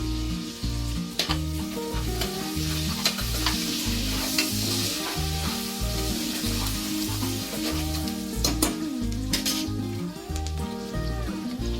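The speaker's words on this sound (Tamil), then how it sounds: "அது கருவேப்பிலை, பொடிசாக அரிஞ்சு வச்ச இஞ்சி எல்லாத்தையும் நான் ஆட் பண்ணுறேன்." Green chillies, curry leaves and finely chopped ginger sizzle loudly and steadily in hot oil for a millet pongal, while music plays alongside throughout.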